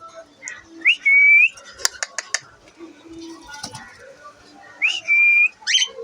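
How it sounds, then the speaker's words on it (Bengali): A tame male cockatiel gives two bright, rising whistled phrases a few seconds apart, close by, with sharp clinks and faint rustling between them. "এটা হচ্ছে একটা মেল পাখি এটা কথা বলে শীষ দেয়"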